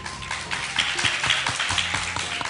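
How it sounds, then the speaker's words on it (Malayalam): An audience clapping after a young singer's performance, a brisk patter of hand claps from a modest crowd over room noise, steady for a couple of seconds. "എല്ലാരും ഒന്ന് കൈയടിക്കുക"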